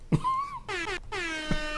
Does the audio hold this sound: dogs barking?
no